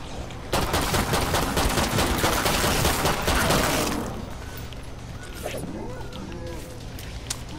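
Rapid shotgun blasts and gunfire from the video game Killing Floor 2 fire in a dense, loud burst for about three seconds, then fade to quieter game ambience and scattered effects.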